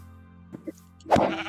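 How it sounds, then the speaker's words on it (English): A sheep in the Minecraft video game gives one loud bleat near the end, after a couple of faint clicks over a quiet steady hum. "sheep galore"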